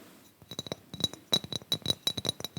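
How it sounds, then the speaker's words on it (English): Hollow glass tapping on a star-shaped glass ornament, a run of quick, bright clinks in irregular bursts, close and fairly loud, with no talking. "Really nice hollow tapping,"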